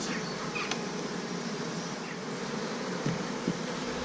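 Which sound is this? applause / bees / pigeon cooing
bees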